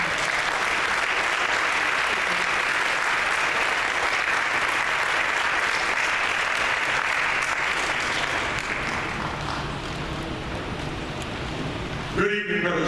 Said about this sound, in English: So join me in giving him a round of applause